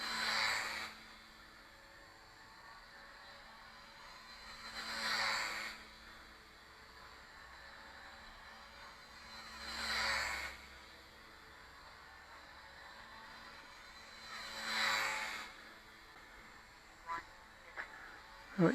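A model Nieuport 17 aircraft's engine runs at full throttle, heard outdoors as a steady buzzing drone that swells and fades roughly every five seconds as the plane circles past.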